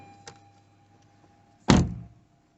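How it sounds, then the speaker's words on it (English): The door of a 2016-21 Honda Civic shuts with one solid, close thunk that fades quickly, preceded by a faint click, in an otherwise quiet garage. "Close the door."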